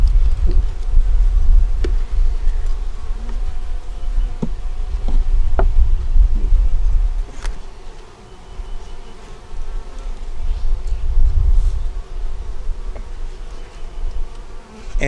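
Honey bees buzz around an open hive, a dense close drone that swells and dips over several seconds, with occasional sharp bee passes and faint knocks of hive parts.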